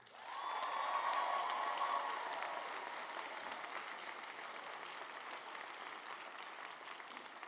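Audience at a university graduation ceremony applauding: dense, sustained clapping from a large crowd in a big hall, loudest at first and then holding steady with a slight fade.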